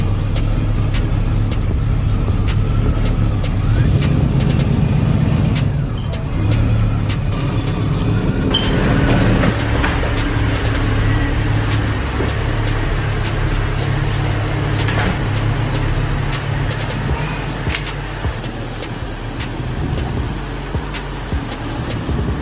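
A tank drives along the Las Vegas Strip with a continuous heavy engine rumble and road noise, loud and close throughout with no clear pauses.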